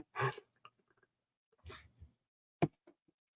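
A person sneezes a few times: two breathy bursts about a second apart, then a sharper, louder one, each followed by brief quiet, with no other sound around.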